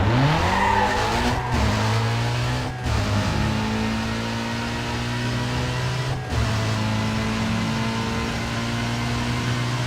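A loud V8 race car engine in a Need for Speed game drones steadily at high revs with a whining straight-cut gear tone, briefly dipping as it shifts a couple of times, with no voices.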